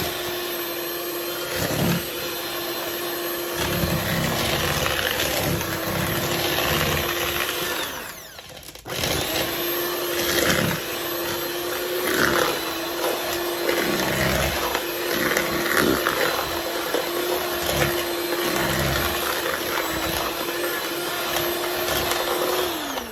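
An electric hand mixer whirs steadily while beating sugar and butter into a paste, a loud continuous motor whine with a brief dip and restart partway through, and rattling scrapes of the beaters against the bowl.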